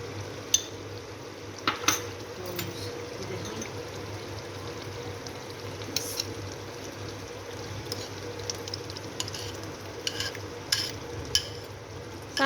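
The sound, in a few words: stirring and mixing chicken karahi in a pan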